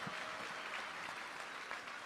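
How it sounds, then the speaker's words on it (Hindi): A large audience claps together at a Shiv Mahapuran katha gathering, a steady, dense wash of applause that runs the whole time with no voice over it. "एक बार ताली बजाओ इसको"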